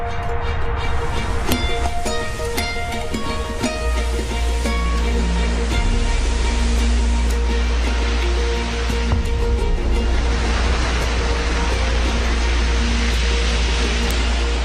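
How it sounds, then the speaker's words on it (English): Loud, continuous roar of heavy Pacific surf crashing on steep Hawaiian lava slopes, with a deep rumbling low end, and tonal music layered over the crashing water throughout. "When one of those gigantic Pacific swells crashes into these steep Hawaiian lava slopes"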